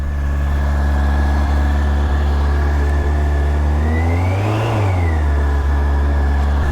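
A flooded Yamaha Super Tenere or FJR motorcycle engine runs with a loud, rough, steady idle, then rises into a brief rev and settles back down, with no voices.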